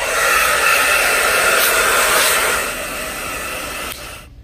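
A dryer blows steadily on a wet fine aggregate sample during a specific gravity test, a loud continuous airy hiss that drops in level partway through and then cuts off, with no talking.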